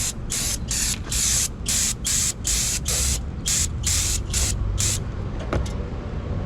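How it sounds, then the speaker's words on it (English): Aerosol brake cleaner sprays onto a front brake rotor of a 2015 Ford Fusion in about ten short, loud hissing bursts, close by, over steady low background rumble. "Brake cleaner."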